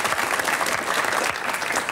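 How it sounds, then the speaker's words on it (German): Studio audience on a 1973 German TV comedy show breaks into steady, dense applause, many hands clapping close and loud throughout without pause. "Kleiner Applaus nochmal"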